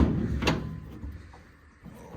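A single brief clunk as the hood of a 1967 Chevrolet C10 pickup, abandoned for 32 years, is opened, followed by faint rustling and handling noises close by.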